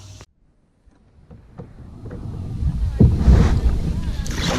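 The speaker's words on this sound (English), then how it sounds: "So I'm out here kayaking on the Occoquan Reservoir in Lake Ridge, Virginia." An Ascend H12 sit-inside hybrid kayak is out on the Occoquan Reservoir in Lake Ridge, Virginia. After a near-silent moment, wind buffets the microphone and rises into a loud, rough rush mixed with lapping water.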